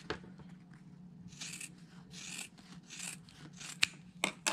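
Scissors trimming the extra corners off a sewn quilt block a quarter inch from the seam, giving several soft rasping snips close by with light fabric rustling between them.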